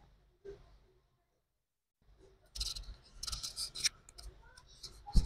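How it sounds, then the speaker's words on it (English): Scissors snip through excess stiff crinoline at the ends of a turban, a quick series of crisp cuts and rustles close up after a quiet stretch, with no talking. "I'm actually cutting out the excess crinoline from each of the ends"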